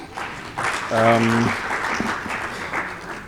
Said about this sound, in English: I think the chair also deserves a round of applause.